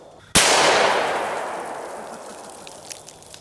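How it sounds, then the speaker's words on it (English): A Glock Gen 4 model 31 pistol fires a single 125-grain full metal jacket .357 SIG round into an Atlas stone outdoors, giving one sharp, loud crack followed by a long fading echo. "Okay, now let's hit it with a pistol round that's moving really fast."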